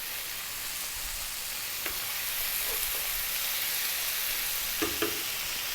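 Two chopped tomatoes fry in hot oil in a pan for a Bengali fish curry (machher jhol), giving a steady, close hiss of sizzling with a couple of faint stirring knocks.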